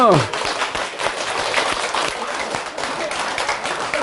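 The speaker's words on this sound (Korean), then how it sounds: "박수" Crowd applause at a gathering after a sung performance, a steady wash of clapping for a few seconds with a brief tone at the start.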